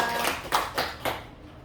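A short burst of church congregation applause, a few rhythmic clap swells over about a second and a half, then fading out.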